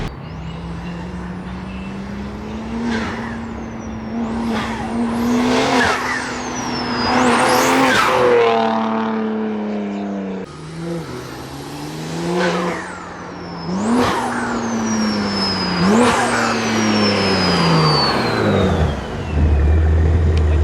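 A BMW G80 M3 in M mode revs hard again and again, its engine climbing and dropping through loud, close sweeps with crackling off-throttle pops between pulls.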